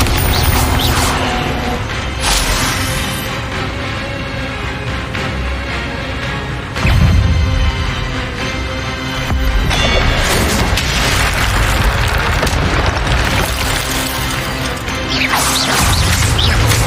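Explosion spells go off in rapid succession in Hogwarts Legacy, loud booms and crashing blasts over a busy mechanical clatter, with heavy impacts recurring every few seconds and no voices.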